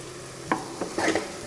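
Miracle leaves fry in ghee in a pan under a close sizzle, broken by several quick scraping stir strokes. No one speaks.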